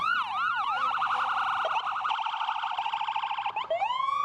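A loud wailing fire truck siren cycles through rising and falling sweeps and steady yelps during a homecoming parade, heard up close and continuous with no talking.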